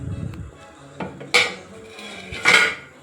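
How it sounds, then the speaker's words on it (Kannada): Grated coconut going into a pot of radish sambar, heard as a few sharp metal spoon clanks against the pot, close and fairly loud, with quieter scraping between them. "ಸೊ ನೆಕ್ಸ್ಟಿಗೆ ತುರಿದಿಟ್ಕೊಂಡಿರುವಂಥ ಕಾಯಿ ತುರಿ ಹಾಕ್ತಾಯಿದ್ದೀನಿ."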